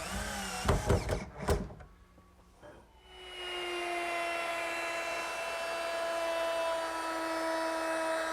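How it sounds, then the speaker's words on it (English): A power drill driving regular screws to fasten a wooden tabletop onto a chest of drawers case: a few knocks and a brief burst come first, then a steady, fairly loud motor whine holds to the end. "I'm ready to fasten it down with some regular screws."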